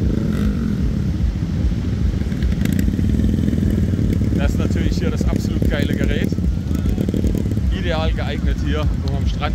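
A mini motorbike rides on a beach, its small engine buzzing loudly and continuously up close, with revving surges and clattering while people shout over it.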